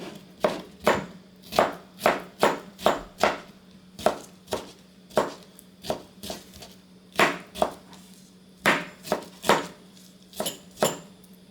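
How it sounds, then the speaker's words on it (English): A knife chops rapidly on a cutting board, mincing about eight loose garlic cloves in brisk bursts of sharp, close taps separated by short pauses. "I've got about 8 pieces of loose garlics, so we mince that"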